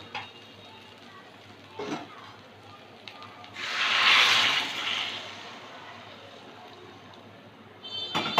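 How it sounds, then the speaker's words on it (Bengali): Hot water pours into a pan of muri ghonto with potato, a loud hissing, sizzling rush swelling for about a second and a half before settling, surrounded by a few light clinks of utensils. "একটু নেড়ে চেড়ে নিয়ে এবার গরম জল দিয়ে দেবো"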